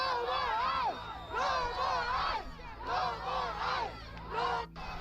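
A large crowd of protesters shouts and chants in loud, rising-and-falling waves, several swells of massed voices with brief dips between them.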